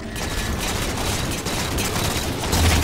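Continuous gunfire in Halo 4 multiplayer, a dense, steady wash of rapid shots and booms without pause, loud and close with no voices over it.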